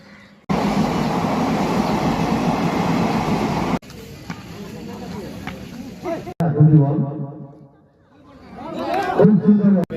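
A train at Jakpur railway station rumbles loudly and steadily for the first few seconds, then gives way to platform bustle with people chatting nearby and louder voices toward the end.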